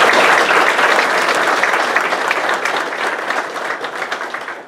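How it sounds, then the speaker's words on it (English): A school-board meeting audience applauds the school principal with steady, dense clapping that starts loud and full, then slowly thins and fades toward the end, with no talk over it. "So please give them a round of applause."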